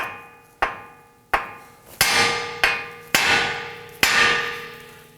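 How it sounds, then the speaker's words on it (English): Heavy metallic hammer blows strike the steering knuckle of a 2018-2024 Toyota Camry to free the outer tie rod, seven loud ringing whacks in a steady rhythm, each decaying with a metallic ring. "Now I'm going to use my hammer and I'm going to whack the end here of our knuckle"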